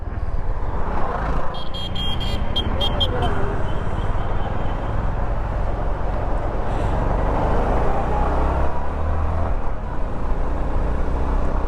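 A Honda CB350 motorcycle's exhaust note rumbles steadily and low on the road, with a constant throb under occasional traffic noise and someone talking over it.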